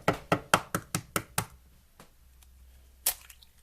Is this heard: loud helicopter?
no